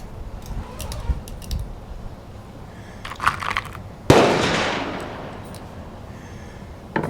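A Winchester M190 rifle fires Remington shells: one sharp, loud shot cracks out and rings down over about two seconds, with fainter thuds before it.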